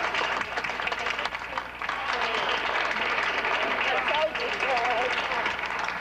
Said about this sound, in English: the people inside broke into applause.